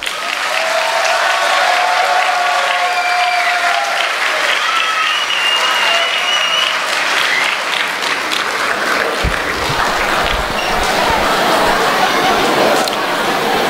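A large audience at a Tibetan community gathering gives long, loud sustained applause for a representative of the Dalai Lama, with some chatter under the clapping.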